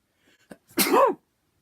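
A single sharp sneeze, preceded by a quick intake of breath, close and fairly loud, then silence.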